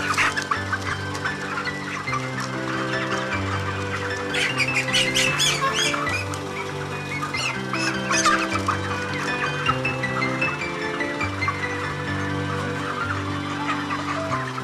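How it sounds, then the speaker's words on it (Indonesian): Broiler chickens being caught for weighing on a farm, a crowded flock clucking and squawking continuously, with loud agitated squawks in the middle and steady layered clucks throughout, close and busy. "Setelah itu kita menangkap ayam yang akan ditimbang secara acak."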